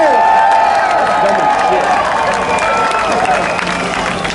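A crowd at a side-by-side RZR driving event cheers and applauds for a passing driver, a steady, loud wash of cheering and clapping with no clear breaks, heard over a busy outdoor background with talk.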